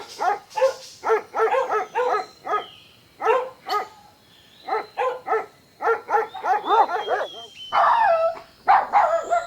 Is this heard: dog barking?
yes